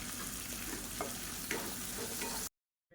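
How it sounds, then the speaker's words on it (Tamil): Vegetables sauté in a pan for a Tamil kulambu, giving a dense, even sizzle with occasional stirring scrapes for about two and a half seconds before cutting to silence. "இது வதங்கும் போதே இதுக்கு தேவையான உப்பு சேர்த்துக்கலாம்"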